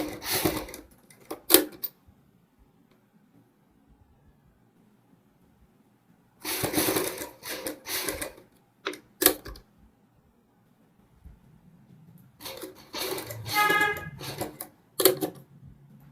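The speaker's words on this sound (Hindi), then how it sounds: "अब मैं यहाँ से एक साइड से सिलाई लगानी शुरू करूँगा।" A sewing machine stitches a fabric sleeve with piping in short, clattering runs separated by quiet pauses, close and fairly faint, with no speech.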